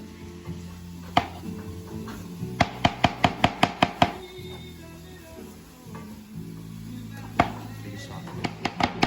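A knife roughly chops mushrooms on a board in sharp, rapid bursts of close thuds, with quiet kitchen sounds and a faint sizzle between the runs.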